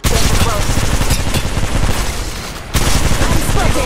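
Apex Legends Mobile gunfire crackles in dense, rapid bursts, loud and close, breaking off for a brief moment before starting again.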